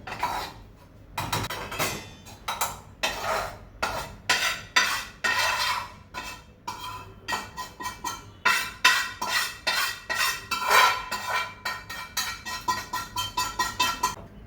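Metal spatula scraping and clattering against a pan as roasted gram flour (besan) is scooped out, a steady run of close, sharp scrapes and taps with no talking.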